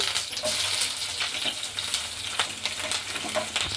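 Bay leaves fry in hot oil in a non-stick pan as the base for fish biryani, a loud, dense crackling sizzle with scattered sharp pops throughout.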